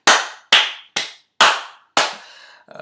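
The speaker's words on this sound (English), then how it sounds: "Come on, clap your hands." Studio audience clapping at a talk show, five sharp, loud bursts of applause that each fade out quickly, with a brief rattling patter at the end.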